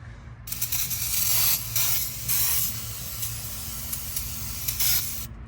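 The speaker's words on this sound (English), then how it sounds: "So just use some good brake cleaner and spray it." An aerosol can of brake cleaner sprays onto a 2012 Ford Fiesta brake rotor in a loud, continuous hiss, with a few stronger surges, close by, over a low mechanical hum.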